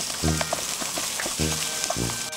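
Onions sizzle and fry in a pan in a continuous hiss, with a few louder bursts from stirring and a faint voice murmuring underneath.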